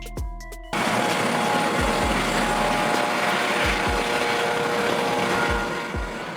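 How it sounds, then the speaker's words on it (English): A police helicopter drones loud and steady, its rotor blades thumping in a regular beat over a broad engine roar, alone with no talk. "Police helicopter, a helicopter used by law enforcement for tasks such as surveillance, pursuit, traffic control, and search and rescue operations."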